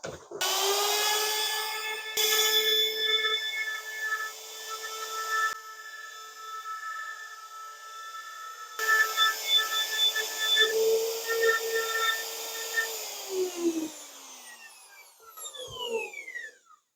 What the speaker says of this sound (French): Je vais reprendre la défonceuse.